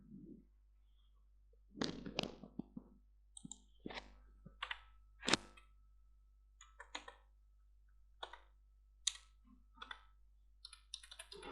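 Computer clicks sound during a login: a quiet scattering of sharp, close clicks and taps at irregular intervals against near silence.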